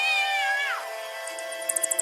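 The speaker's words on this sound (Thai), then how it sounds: "มาอีกแล้วเจ้าแมวเกเรนี่" A single drawn-out cat meow, loud and close, slides downward and fades, followed by faint light ticking sounds in the background.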